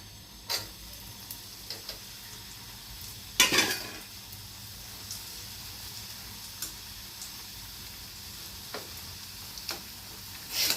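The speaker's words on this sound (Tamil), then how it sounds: "லாஸ்ட்டாக இன்னும் கொஞ்சம் இருக்குது அதையும் நம்ம பொறிச்சு எடுத்துக்கலாம்" Appi dough, the last of the batch, fries in hot oil with a soft, steady sizzle, broken by occasional clicks and scrapes from a utensil, close by and with no voices.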